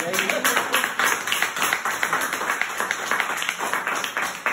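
Church congregation claps during a sermon, a rhythmic patter of hand claps at moderate level, with voices mixed in underneath.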